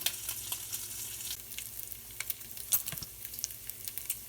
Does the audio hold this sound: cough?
no